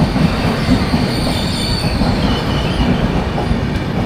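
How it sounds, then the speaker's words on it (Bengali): Train at Nabadwip station in West Bengal, a loud, steady rumble of passing railway cars with wheels squealing and faint clatter throughout, no voices. "Train bell."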